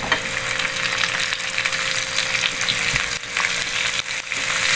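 Garlic and onion fry in a pan for ground beef burritos, giving a loud, continuous close sizzle with faint stirring scrapes and no talk.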